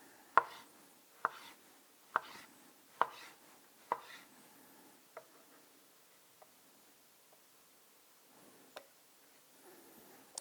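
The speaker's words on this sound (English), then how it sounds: "And then here we just slice it up." Knife slicing through mango on a cutting board: a run of five crisp, evenly spaced chops up close, then softer, sparser taps trailing off in a quiet kitchen.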